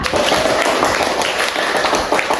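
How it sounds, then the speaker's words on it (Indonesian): Students clap their hands together in a classroom, a dense, continuous wash of quick claps that carries on steadily throughout. "Iya, tepuk tangan."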